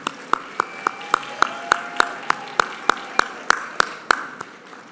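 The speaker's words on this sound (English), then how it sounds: "another round of applause for Sylvie" Steady, evenly spaced claps from an audience at an awards evening, about three per second, sharp and fairly close, continuing for several seconds with little else around them.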